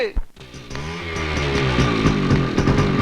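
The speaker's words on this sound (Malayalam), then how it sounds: "ബൈക്ക്." A motorbike engine revs loudly and continuously close by, its pitch rising and falling through several throttle surges, with a short burst of voices near the start.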